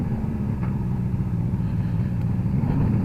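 Suzuki GT750A motorcycle engine on a road test, a steady low rumble running throughout at a constant, even level, close up, with wind noise over it and no talk.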